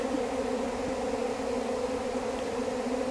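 Tens of thousands of honey bees feed on spilled honey and nectar, a steady, dense buzzing drone with no break, moderately loud and heard alone.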